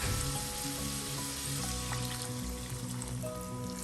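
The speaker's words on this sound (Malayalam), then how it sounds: "വേകാൻ ആവശ്യമുള്ള വെള്ളം ഒഴിക്കാം" Water pours steadily into a hot pan of sautéed carrots, a continuous hissing sizzle and trickle with no pauses, close and fairly loud.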